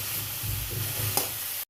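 Cabbage thoran sizzling steadily in a pan as a spoon stirs it, with a few scraping strokes through the hiss, then a sudden brief drop near the end.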